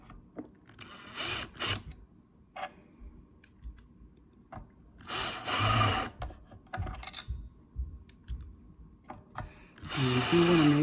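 A power drill drives screws into a guitar neck during a guitar build, with several short bursts of whirring separated by clicks and handling noises, close and fairly loud.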